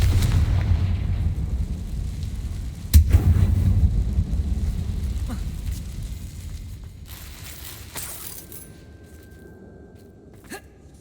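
Confringo spell explosion in the Hogwarts Legacy video game, a deep rumbling blast that bursts out and then fades slowly, followed by a few faint scattered impacts, with no talking.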